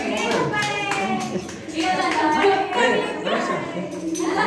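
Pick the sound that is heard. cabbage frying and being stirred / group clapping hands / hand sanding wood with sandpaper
group clapping hands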